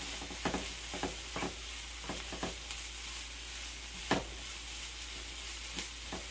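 Onions and ground meat cooking in a pan for Southern-style meatloaf, a faint, steady low sizzle broken by scattered soft clicks and scrapes of stirring.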